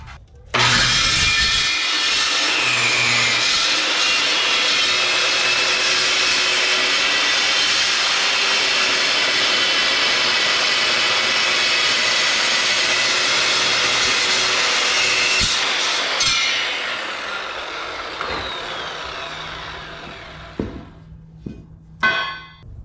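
Heavier steel wall material being cut for rebuilding a 4x8 utility trailer, a loud continuous abrasive grinding whine that runs steadily for about fifteen seconds before tapering off, with no talking.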